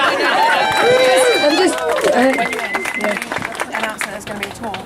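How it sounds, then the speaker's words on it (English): An audience at a Grow Heathrow gathering for a South Pacific islands campaign applauds Sheila, dense clapping swelling behind overlapping voices and a few cheers, with talk continuing over it. "round of applause for Sheila, and not for me"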